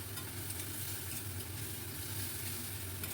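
A paste of ginger, green chilli and spices sizzles steadily in hot oil as it is stirred, a continuous close frying hiss for a curry of kabuli chana.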